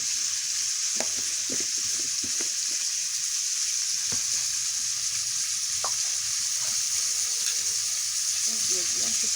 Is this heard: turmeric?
yes